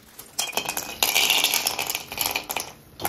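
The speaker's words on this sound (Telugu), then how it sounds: "ఇప్పుడు దాంట్లో మనం తెచ్చుకున్న జీడిపప్పులు వేసేసుకుందాం" Cashews tip into a pan of ghee for semiya payasam and get stirred, giving close, bright clinks and rattles against the metal in short irregular bursts.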